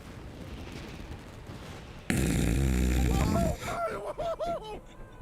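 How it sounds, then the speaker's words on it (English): Fireworks in the video game Genshin Impact go off with a sudden loud, booming burst, then rising and falling whistling tones crackle and fade over the next couple of seconds. "Fireworks aren't just for festivals, you know."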